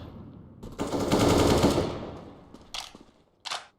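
Counter-Strike sniper rifle fire sounds as a loud rattling burst of gunfire lasting about two seconds, followed by two short, separate shots.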